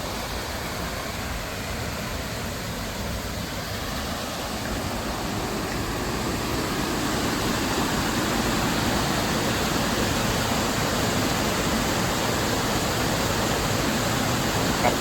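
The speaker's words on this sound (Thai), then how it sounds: "ฟังเสียงน้ำไหลเลยอ่ะ" Steady rushing water flows continuously past a rice-field hut, a broad even hiss that swells slightly louder partway through, with no voices.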